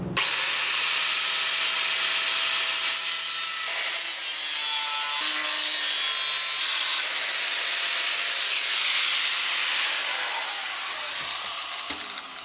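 Rear light bracket shape for a Reliant 850 trike being cut from roughly 4mm metal with a power tool, a loud, continuous bright grinding whine held close for about twelve seconds before it tapers off.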